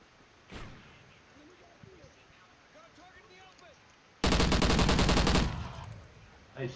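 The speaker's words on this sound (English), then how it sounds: "someone's shooting at me" Gunfire in Call of Duty Ghosts multiplayer: one early sharp shot, then a quiet stretch with faint voices, then a loud dense burst of rapid fire lasting about a second.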